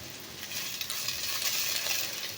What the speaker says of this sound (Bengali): বাঁধাকপি আমি হাই ফ্লেমে 2 মিনিট ভেজে নিয়েছি।